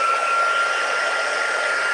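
A craft heat tool blows a steady, loud whoosh with a faint whine as it heat-sets embossing powder on vellum, running continuously without speech.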